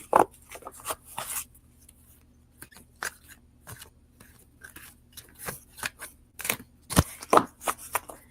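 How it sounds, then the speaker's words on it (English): Oracle cards being shuffled by hand during a live reading, giving scattered soft papery riffles and flicks with small taps between them, close and fairly quiet, with no talking. "while I'm shuffling the cards"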